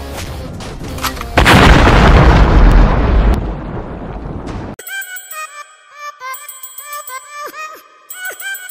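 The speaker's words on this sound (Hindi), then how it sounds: "उड़ा दो बिल्डिंग।" A huge blast blowing up a building, a sudden loud roaring boom that rumbles and decays over a few seconds, then gives way to a ringing, tonal electronic music score.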